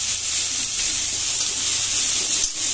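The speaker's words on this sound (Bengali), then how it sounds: "এবার আমি এর মধ্যে গাজর আর বিনসটা দিয়ে দিচ্ছি, এটাকে একটু ফ্রাই করে নেব" Carrots and beans fry in a pan for an upma, giving a steady, close, even sizzling hiss without pause.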